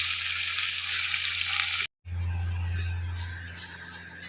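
Jackfruit pieces fry in a pan in an Indian home kitchen with a steady loud sizzle, cut by a brief gap, then the sizzle resumes with stirring scrapes and a low hum underneath.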